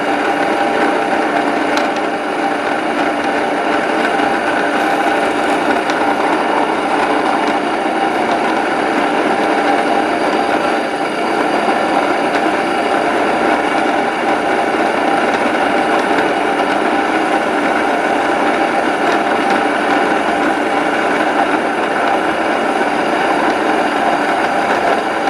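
A Mini Stone Grain Mill grinds oats into flour with a steady, loud mechanical whir and gritty rumble that runs without a break throughout, and no talking.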